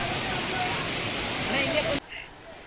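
Waterfall in the Eastern Ghats: a loud, dense rushing roar of falling water up close, continuous for two seconds before cutting off abruptly.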